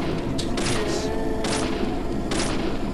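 Gunfire in the video game Deadly Premonition, aimed at enemy heads: three or four sharp, bright shots spaced roughly a second apart over a steady rumbling game backdrop, with no talking.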